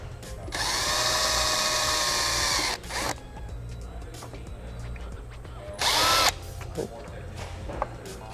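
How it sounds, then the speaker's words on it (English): A power drill pilots holes in the plastic of a 2023+ Nissan Z carbon fiber diffuser in two close, loud whining bursts, the first long, the second short, with garage background noise between. "So we got our drill bit, drill. We're just gonna pilot some holes in that plastic."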